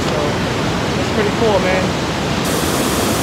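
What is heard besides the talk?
waterfall at Amnicon Falls State Park, Wisconsin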